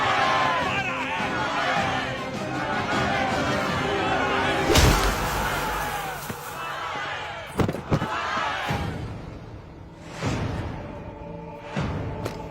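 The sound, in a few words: crowd hubbub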